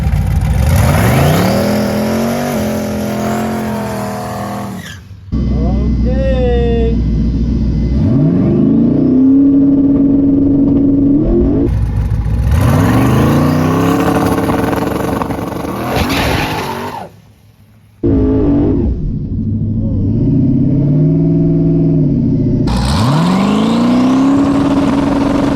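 A 5-second street drag car launches down the track with its engine revving hard and climbing through several gear shifts in long, loud pulls, with tire noise and brief gaps between runs.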